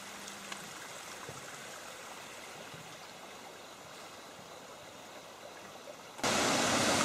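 Mountain waterfalls beside a road through the mountains toward Guilin, China: a steady, faint broadband rush of falling water that suddenly swells much louder near the end.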